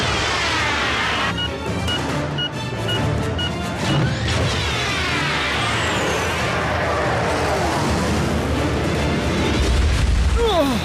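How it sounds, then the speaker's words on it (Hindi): A blast rumbles and crashes in a Hindi-dubbed Transformers Prime animated episode, a dense, sustained roar of debris and booming noise that fills the whole stretch, with faint electronic beeps early on. "क्यों, कैसा लगा ये धमाका?"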